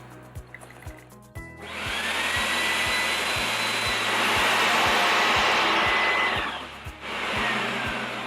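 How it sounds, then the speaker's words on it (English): A floor vacuum machine whirs loudly and steadily after a few mechanical clicks, with a rhythmic low thumping running underneath throughout. "This can be used as a normal vacuum cleaner also."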